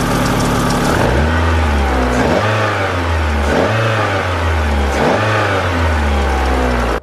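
A car engine fitted with its old air filter revs hard several times in a row. Each loud, close throttle blip rises and falls before dropping back toward idle.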